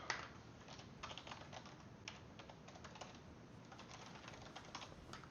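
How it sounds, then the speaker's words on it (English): Steady, rapid clicking of a mechanical computer keyboard, close and moderately quiet, with irregular bursts of keystrokes throughout and no voices. "Apologize if you can hear my little clicky click keyboard there."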